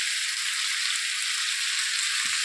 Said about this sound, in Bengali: আলু ভাজা বসাই দিলাম